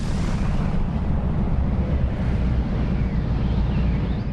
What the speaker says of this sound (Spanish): La explosión de la supernova